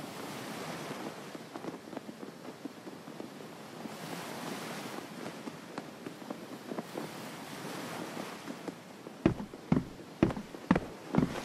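Sea wind and waves in the video game Detective Hayseed Hollywood keep up a steady washing surf and gusty rushing air, with several sharper knocking hits near the end.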